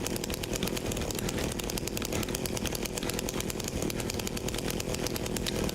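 Chainsaw in the game Silent Hill 2 Remake, running steadily as a continuous buzzing engine drone without a break, moderately loud and alone.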